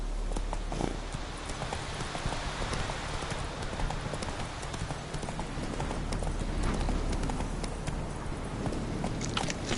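Roach, a horse in The Witcher 3, galloping with steady, rapid clip-clop hoofbeats close by, continuous for the whole stretch over a busy background.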